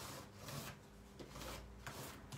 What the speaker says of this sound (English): I will start a new art journal page by scraping any excess